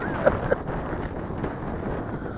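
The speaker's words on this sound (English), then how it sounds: "The wind is picking up" Wind blows outdoors at a low, steady level, with faint rumbling gusts against the microphone and a couple of brief small knocks, fairly quiet overall.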